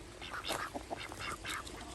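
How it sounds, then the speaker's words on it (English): A couple of domestic ducks on a backyard hobby farm quack in a lively series of short, nasal calls, close by and fairly loud, with no talking. "There's 2 of our cool ducks."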